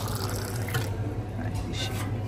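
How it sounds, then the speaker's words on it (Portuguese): Water pours from a drinking-water dispenser into a small bottle, a steady close trickle and splash with faint background murmur. "Eu encho minha garrafinha."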